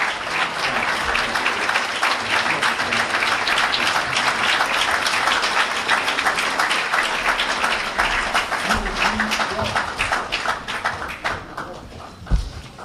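An audience in New York gives a sustained round of applause, dense steady clapping that carries on before fading out near the end.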